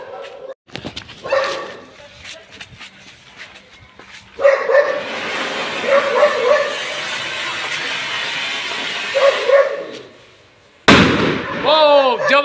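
A Cock Brand anar fountain firework erupts in a long, loud roaring spray that runs for several seconds outdoors, with a few sharp pops, a dog barking, and a voice talking over the noise.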